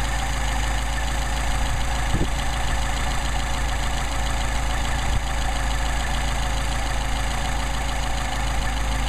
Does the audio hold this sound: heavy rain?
no